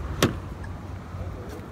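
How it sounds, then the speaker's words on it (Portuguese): A Hyundai Creta Action 2021 responds to its key fob with a sharp single click-beep near the start, followed by faint softer lock and alert chirps, close by and brief, with no talking. "Aqui tá a chave, ó, travamento, abertura do carro, porta-malas e o alerta sonoro."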